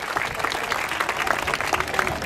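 Audience applause at a city hall grand opening and ribbon cutting in Boyle Heights, honoring a mariachi youth ensemble; steady dense clapping from a crowd throughout, fairly loud and continuous with no speech over it.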